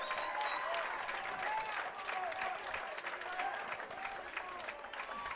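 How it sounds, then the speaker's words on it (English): Home fans at a high school football game at Kelly Field clap and cheer in a broad, sustained crowd roar, heard from a distance with faint whistling tones riding over it. "Braves Nation applauding the decision there"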